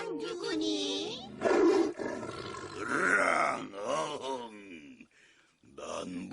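A human voice imitates a tiger's roar in a children's storytelling performance, delivering several long, loud growling roars and grunts up close, with brief pauses between them.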